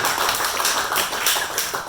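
Scattered but steady hand clapping from a modest comedy-show audience at a Toronto pub, the claps dense and overlapping for about two seconds with no talk over them.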